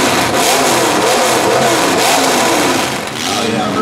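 Demolition derby car with a new motor revving hard, a loud, continuous engine roar that holds steady for about three seconds before dipping briefly and climbing again.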